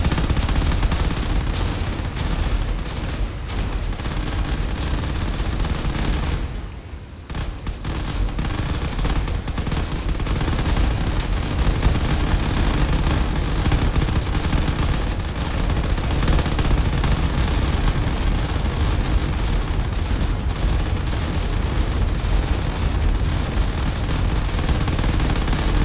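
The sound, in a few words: missiles fired by fighters in a drone combat video game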